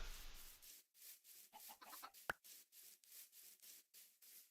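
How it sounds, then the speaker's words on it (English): Chickens in a video game cluck in a steady, even rhythm of about a dozen short calls, alone and fairly faint, with one sharp click partway through. "I'm getting a pretty big chicken population here just by collecting the eggs and then throwing them"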